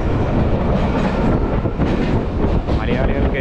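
A MEMU train rumbles loudly into Thrissur railway station, steady clattering rail noise and wheel rumble filling the whole stretch with wind buffeting the microphone.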